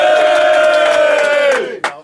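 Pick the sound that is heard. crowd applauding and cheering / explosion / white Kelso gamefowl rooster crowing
crowd applauding and cheering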